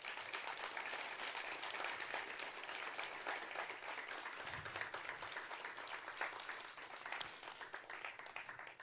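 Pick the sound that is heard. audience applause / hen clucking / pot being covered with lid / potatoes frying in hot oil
audience applause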